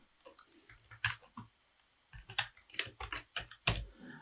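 Typing on a computer keyboard while entering Linux commands, a quiet run of uneven clicks and key taps with a few louder strokes, no talking.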